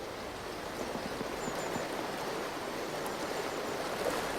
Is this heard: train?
no